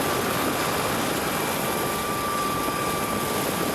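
The world's largest firefighting helicopter, able to carry 15 tons of water, flies over forests in Muğla, giving a loud, steady, unbroken rotor and engine roar with no voices.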